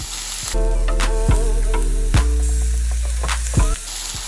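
Onions sautéing in hot oil in a pot for Creole butter beans: a steady loud sizzle with crackling bursts and a few sharp clanks of a utensil stirring against the pan.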